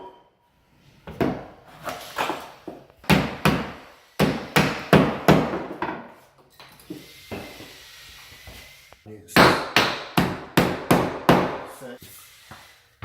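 Sharp hammer blows in quick rhythmic bursts, close and loud, with pauses between runs of strikes as nails are driven into a wooden door casing.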